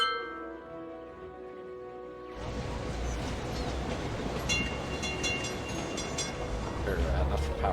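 Tram ride in the city-building game Cities: Skylines, starting with quiet tonal hum, then at about 2.5 seconds swelling into steady loud rumble and rattling of rail wheels with scattered clanks, continuing to the end.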